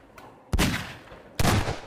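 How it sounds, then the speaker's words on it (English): Two sharp, loud gunshots about a second apart in the video game Garry's Mod Prop Hunt, each a sudden burst with a short decaying tail over a quiet background. "I hear gunshots."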